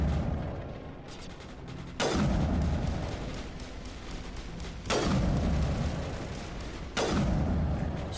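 Heavy booming turret fire in Mass Effect, three big blasts spaced a few seconds apart, each hitting hard and rumbling off over a continuous background of combat noise.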